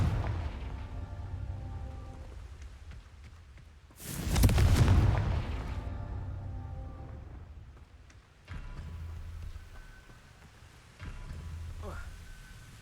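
In the Hogwarts Legacy video game, a Confringo spell bursts with one loud, heavy fiery blast that swells and fades over about two seconds, set against a low ambient game hum with faint later thuds.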